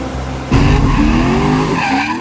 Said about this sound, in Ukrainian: Дивись, машина впісялась.